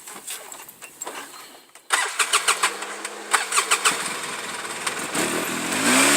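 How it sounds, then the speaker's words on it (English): A car engine cranking over and catching, then revving in several quick bursts before settling into a steady rumbling idle, heard up close with no talk. "I'm gonna take this car for a ride."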